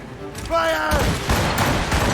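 Ship cannons firing in an Assassin's Creed Rogue naval fight, a sudden burst of loud booms and crackling shots after a brief shouted voice, continuing as a dense, close volley.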